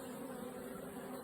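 Honeybees buzz at a hive, a steady low drone that holds evenly throughout without a break and sounds soft and close.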